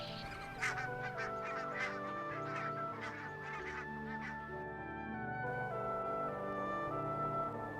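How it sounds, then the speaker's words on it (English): A flock of bar-headed geese honks continuously at a wintering site in Himachal Pradesh, India, many overlapping calls layered together at moderate distance with no voices. "Himachal Pradesh in India becomes a popular destination for thousands of bar-headed geese and many other migratory birds."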